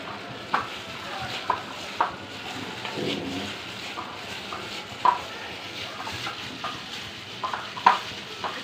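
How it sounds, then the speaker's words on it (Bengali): Hands mix a sugar-free cake dough of ripe banana, oil and flour, giving soft squelching and stirring sounds with scattered light clicks and taps at close range. "চিনি ছাড়া তেল কলা আর আটা দিয়ে দেখেন আমি কিভাবে মাখাচ্ছি"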